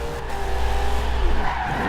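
A car in a racing video game drifts, its tires skidding and squealing continuously over a loud, steady engine roar, close and without pause.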